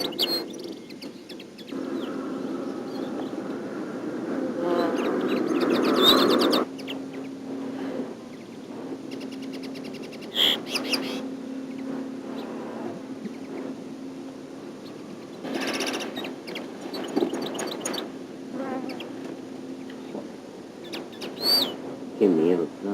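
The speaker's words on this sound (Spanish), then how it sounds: "Justo cuando decidimos irnos, comienzan a llegar pájaros." Birds arriving and calling outdoors during traditional songbird trapping, with chirps and short calls scattered over a steady insect-like hum and background voices.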